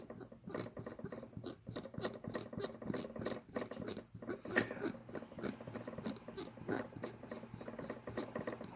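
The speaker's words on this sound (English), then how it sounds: "Little file, I can use this. This will grind it up a little bit even finer." A small hand file grinding exploding-pellet material down finer, heard as a close, continuous run of quick rasping strokes in a steady rhythm, quiet and alone with no voices.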